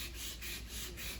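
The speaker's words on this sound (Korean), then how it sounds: "이렇게 사포질을 하다 보면" Sandpaper rubs back and forth along the grain of a wooden piece by hand, making steady, rhythmic rasping strokes about twice per second, close and continuous with no talk.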